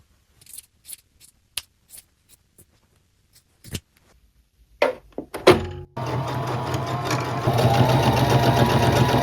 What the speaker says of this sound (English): I'm going to do a zigzag stitch on each side just to keep it from fraying